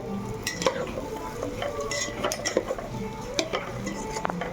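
Rice and lentils are stirred and roasted in a pot for khichuri with added sugar, a spoon scraping and clinking against the metal in irregular strokes over a light sizzle, close up.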